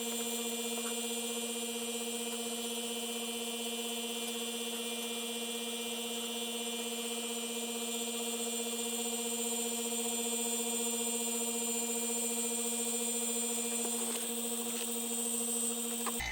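A vacuum pump runs steadily while it draws down a stabilising chamber, a constant mechanical hum with sharp tonal whine lines that stays level and unchanging throughout.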